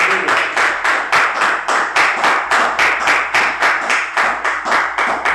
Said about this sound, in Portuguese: Você pode aplaudir o Senhor nessa noite, amém?